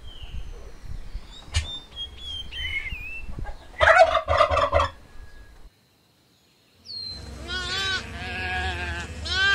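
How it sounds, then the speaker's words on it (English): A turkey gobbles in a rapid rattling burst, preceded by scattered farmyard calls and squeaks and followed after a brief silence by a separate bleating animal call, all fairly close and clear. "Turkey."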